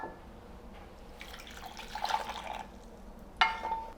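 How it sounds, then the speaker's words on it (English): Cooking liquid from simmered moringa drumsticks is poured into a measuring cup, a faint, intermittent splash and trickle with a brief brighter pour near the end, no talking. "I'm going to pour the liquid back into my measuring cup to see how much I have left"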